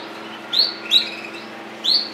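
Gloster canaries in a breeding cage give three short, bright chirps spaced over two seconds against a faint steady background hum.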